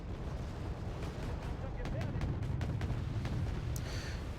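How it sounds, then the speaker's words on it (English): Artillery bombardment in the strategy video game Wargame Red Dragon: a dense, continuous rumble of distant booms with sharper blasts layered on top, steady and loud throughout. "they started bombarding"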